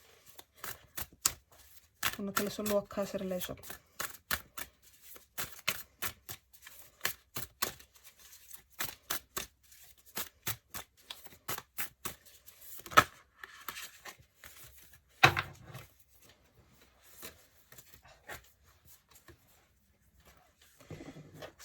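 A Mystical Shaman Oracle card deck is shuffled up close, giving crisp, rapid flicks and riffles in uneven bursts with quiet gaps between them, while a voice speaks briefly near the start.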